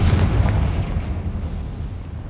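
Confringo fire spell cast in the Hogwarts Legacy video game, a loud booming burst at the start with deep rumbling that trails off and decays across the remaining seconds, with no voices.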